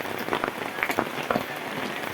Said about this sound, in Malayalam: രാവിലെ മുതൽ പൊതുവെ ശക്തമായിട്ടുള്ള മഴയും കാറ്റുമാണ് ഉണ്ടായിക്കൊണ്ടിരിക്കുന്നത്